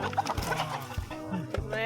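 Chickens clucking around feeding time outdoors near a house, several short clucks and calls scattered through the clip with bursts of nearby activity and some voices mixed in.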